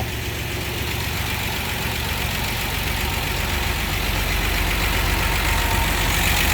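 A 1963 GMC K1000 4x4 barn-find truck engine runs steadily at idle, a continuous low rumble with faint knocking, close and loud throughout with no talk.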